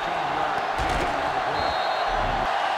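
Stadium crowd roars steadily throughout at a college football game between Akron and Penn State, likely from a video game, a dense, loud wall of cheering with occasional whoops and no clear break.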